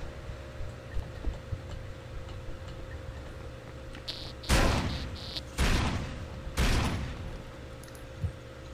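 Gunfire in the video game Splinter Cell: Double Agent, three sharp, fairly loud shots about a second apart over a low ticking game ambience.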